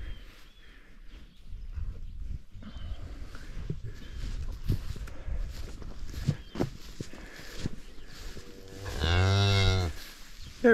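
A cow on a farm, where a 4H steer and calves are kept, gives a loud, drawn-out moo near the end, preceded by shuffling footsteps and scattered farmyard noises.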